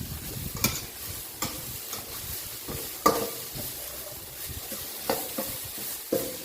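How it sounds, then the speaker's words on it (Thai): Homemade curry paste being stir-fried in a pan, a spatula scraping and tapping in irregular strokes over a light sizzle, close and moderately quiet with no talking. "เราจะผัดพริกแกงให้หอมก่อนนะครับ"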